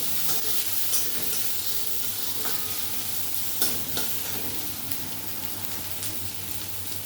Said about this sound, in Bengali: এবার একটু আদা গ্রেট করা একটু ভেজে নেবো।